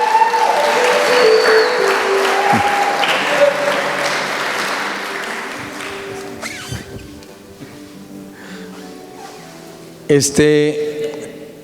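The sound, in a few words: applause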